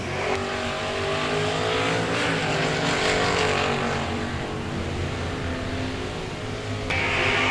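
Drag race cars in the KKC Performance Top Bulb Division roar down the strip at Coastal Clash Friday, a loud sustained engine howl with rising revs that stays strong throughout and cuts over to a fresh blast near the end.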